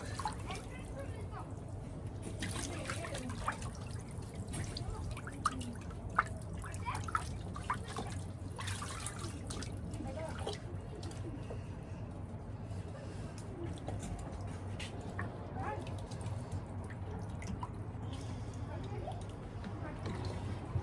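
Running water from a tap trickles and splashes steadily while egg yolk is rinsed off, with occasional wet squishes and drips over a continuous, fairly quiet flow; faint talking appears in the background.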